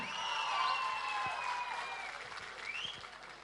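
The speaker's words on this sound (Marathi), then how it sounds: "जोरदार टाळ्या झाल्या पाहिजे या लेडीज बॅच साठी" Sustained audience applause for a ladies' group at a Mangalagaur celebration, dense and steady throughout, with a few whistles rising above the clapping.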